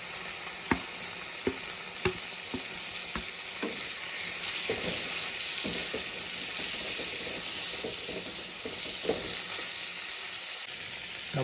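Onions and tomatoes frying in a pan for an Adivasi-style egg curry give a steady, moderately loud sizzle, with occasional sharp clicks from stirring or utensils.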